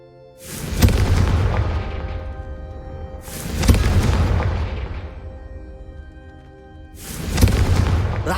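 Three heavy Confringo spell explosions from Hogwarts Legacy, each a loud booming blast with a long rumbling decay, spaced a few seconds apart with no talk.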